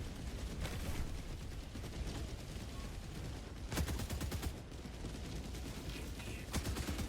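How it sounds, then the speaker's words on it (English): Orbital barrage artillery strike in the Helldivers 2 video game, fighting Automatons: dense, continuous rumbling gunfire and explosions with sharp bursts near the middle and end, loud throughout. "Firing orbital barrage."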